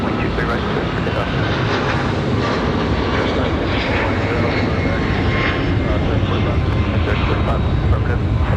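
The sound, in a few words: airplane taking off at Raleigh Durham airport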